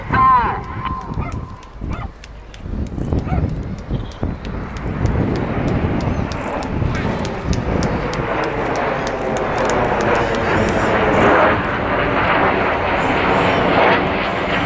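Red Arrows jets pass in Vixen formation at the 2012 Southport Air Show, their roar swelling into a loud, steady rush that holds to the end, while a commentator talks over the start.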